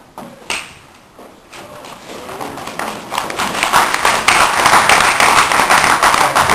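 Debate audience applauding, starting as scattered claps and swelling into steady, dense clapping that grows louder and fills the hall toward the end.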